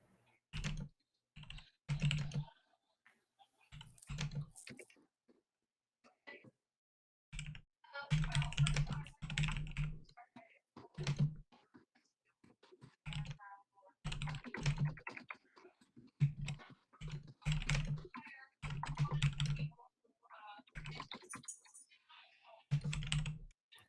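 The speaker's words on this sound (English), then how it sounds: "I was just typing something real quick." Typing on a computer keyboard, heard as bursts of close key clicks separated by short pauses, fairly quiet and with no talking.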